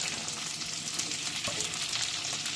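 Onion and capsicum sizzling in a pan, a dense and even frying hiss heard up close, with faint stirring movements and no talk.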